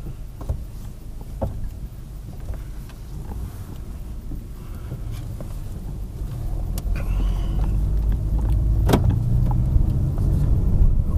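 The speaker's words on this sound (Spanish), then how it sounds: "Ok, bueno, pues ya voy en el coche" Steady interior rumble of a car driving on a road, low road and engine noise growing slightly louder and denser toward the end, with no talking.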